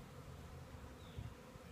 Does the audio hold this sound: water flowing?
no